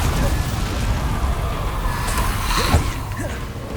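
An Incendio fire spell is cast in the Hogwarts Legacy video game as a rumbling, booming blast over dense background game noise, with a sharper burst late in the clip.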